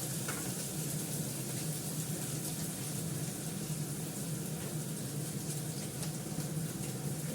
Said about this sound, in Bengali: ভাজা ভাজা করবো, জিরে ফোড়নটা দিয়ে দিলাম